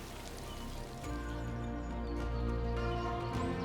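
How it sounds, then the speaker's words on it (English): Steady rain in Trat province, eastern Thailand, pattering on a surface, a dense continuous hiss with a few sharper drips, fairly loud and close, no voices. "The rain here is falling in a way that it feels like the sky is mocking you."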